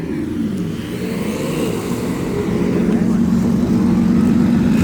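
A Porsche 992 Turbo S and a Turbo 370 supercar drive past leaving a car show, their engine roar steady and building louder toward the end, with voices talking over it.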